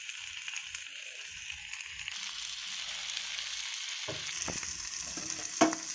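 Fish pieces frying in oil in a pan, seasoned lightly with chili powder and salt, with a steady bright sizzle that swells after a few seconds and some clinks near the end, with no talking.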